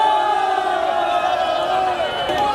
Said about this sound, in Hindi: लेकिन बाहर भीड़ कुछ ज़्यादा ही रहता है